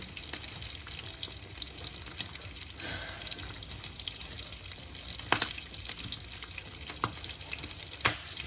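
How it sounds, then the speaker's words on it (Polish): Steady crackling sizzle of lard frying in a pan, with a few louder pops and spits standing out over the continuous hiss. "Smażenie smalcu."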